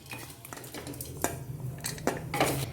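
Fried radish chutney ingredients being scraped from a pan onto a plate, with scattered metallic clinks and scrapes of a utensil against cookware over a low hum.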